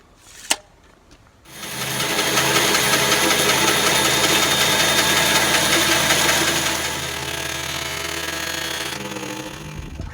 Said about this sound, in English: I'm going to cut a taper that's 2 inches on the wide end, 12 inches long, 2 inches wide on the wide side